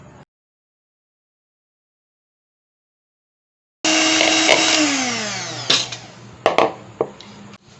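A handheld electric beater whisks eggs for a chocolate cake, starting abruptly after near silence as a loud steady motor whine with shifting pitch, then clattering bursts against the bowl near the end.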